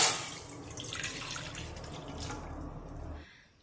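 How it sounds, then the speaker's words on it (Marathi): A bowl of water pours into a kadai for rice-flour chakli dough, a soft, steady splashing trickle lasting a few seconds before cutting off, quiet and close with no talk. "त्याच वाटीने मोजून 1 वाटी पाणी या कढईमध्ये टाकूया।"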